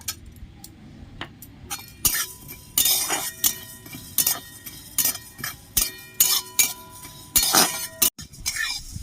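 Whole coriander, cumin, a dry chilli and whole garam masala being fried in a pan for khichuri, with repeated metallic clinks of a spoon against the pan over a soft frying hiss, close and fairly loud.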